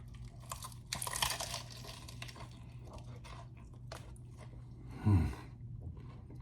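Crunchy fried chicken from Pioneer Chicken bitten and chewed up close, with crisp crackling crunches around the first second, softer chewing after, and a louder low thump near the end.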